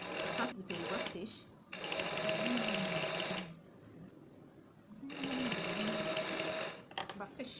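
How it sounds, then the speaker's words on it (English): Sewing machine stitching a dress neckline, starting with a reverse stitch: two steady motor-driven runs of rapid needle chatter, each a few seconds long, separated by a pause and ending in a few short stop-start bursts. "I'm going to stitch everything together on the neckline."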